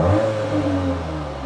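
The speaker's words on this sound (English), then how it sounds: "Rev the car in comfort normal mode first" A VW T-Roc R engine revs in comfort normal mode, a steady, loud droning hum that eases back slightly over a moment, with no talk.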